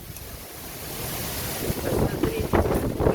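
Strong wind and heavy rain outdoors, a steady rushing roar that swells louder toward the end, with a brief spoken word near the start.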